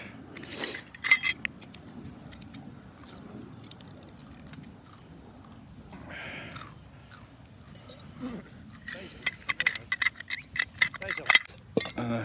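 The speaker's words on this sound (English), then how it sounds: "that's my washing up done" Camping dishes and cutlery being washed up outdoors, with scattered clinks and clatters of metal and crockery, quiet sloshing between, and bursts of busier clanking toward the end; someone speaks briefly.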